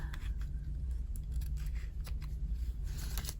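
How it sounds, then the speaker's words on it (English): Scissors trimming a paper index card, a series of quick close snips and cuts over a steady low background hum, with no voices. "I'm going to trim that down"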